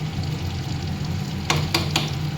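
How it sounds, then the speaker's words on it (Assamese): A steady low bubbling and simmering from a pot of bottle gourd boiling for fish curry, with a few brief clinks partway through. "পানীলাওখিনি এনেকৈ উতলি আছে"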